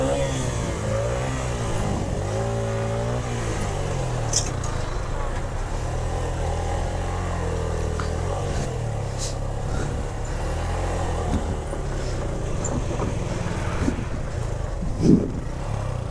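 A Yamaha FZS V3 motorcycle engine revs hard climbing uphill, a loud, continuous strained drone rising and falling in pitch, with voices shouting over it.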